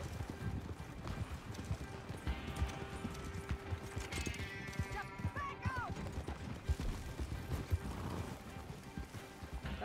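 Horse in Red Dead Online trotting with continuous, fairly close hoofbeats over mechanical rattling, a whinny-like squeal rising midway, and a voice speaking over it at times.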